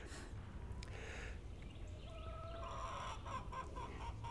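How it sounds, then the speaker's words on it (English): Chickens cluck loudly and repeatedly nearby, with a few sharper squawks rising over the flock's steady chatter. "my chickens are being very loud today"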